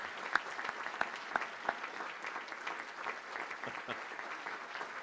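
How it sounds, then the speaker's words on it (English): Audience applause at a military employer-support awards ceremony, honoring award recipients: steady, moderately distant clapping from a crowd with a few sharper individual claps, no talk. "Let's give them all a round of applause."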